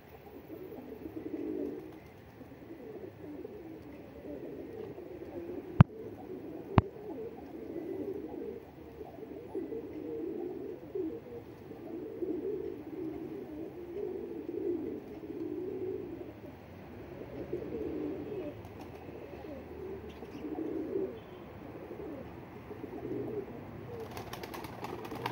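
Pigeons coo softly and steadily in a quiet outdoor spot, low rolling calls repeating throughout, with two sharp clicks early on.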